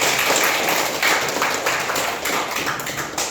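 Students in a classroom clap together during an Indonesian language lesson, a short, steady burst of hand clapping filling the room.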